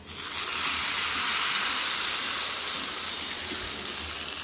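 A hot tempering poured into a grape and pineapple fruit curry sets off a loud, steady sizzle with hissing steam, close and continuous throughout.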